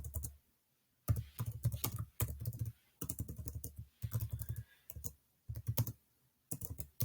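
Typing on a computer keyboard comes in quick bursts of dense clicking, separated by short pauses, close and fairly quiet with no voices.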